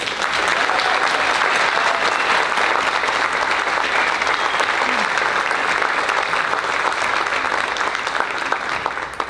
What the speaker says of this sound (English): please join me one more time in congratulating our graduates with another round of applause